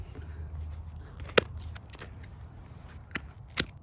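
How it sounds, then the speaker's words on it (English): Pruning shears snip a branch of a young David Austin rose at the stem, one sharp close click followed by two more short snaps over quiet outdoor background. "So I'm going to cut this one off right here at this stem."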